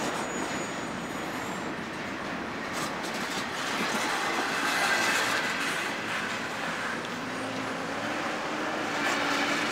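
A CSX freight train of bare flatcars rumbles steadily past, its rolling cars producing a continuous clattering roar that holds at a constant loudness throughout.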